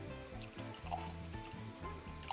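Bulleit bourbon and Bulleit rye whiskey poured from bottles into glasses, a quiet, close liquid glug and trickle with a few soft clinks, faint and alone.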